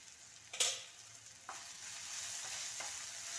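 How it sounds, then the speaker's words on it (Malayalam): Chili powder, pepper powder and coriander powder are stirred into a pan of samosa filling, with a few scraping strokes of the spoon over a soft steady sizzle, close by and without speech. "എല്ലായിടും ഒന്ന് ഇളക്കി യോജിപ്പിക്കാം"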